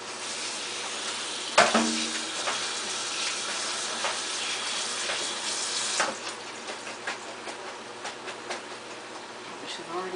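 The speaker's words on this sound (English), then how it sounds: "got something in which to rinse off the mushrooms right quick" Tap water runs steadily into a kitchen sink as mushrooms are rinsed for beef stroganoff, a continuous hiss with a sharper splash early on and soft clinks, with someone talking.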